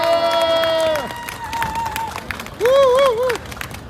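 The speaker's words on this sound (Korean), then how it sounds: "벌써 동의하시면 박수 한번 주십시오." Applause and crowd noise from a Korean political campaign rally audience in Jongno, Seoul, broad clatter under loud tonal sounds and a rising, wavering whoop.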